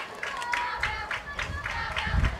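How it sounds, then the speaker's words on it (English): Crowd at a high school softball game, Lawrence County versus Springfield: scattered rhythmic clapping and cheering chants from a sizable crowd, steady throughout with a chanted pulse. "Great crowd on hand."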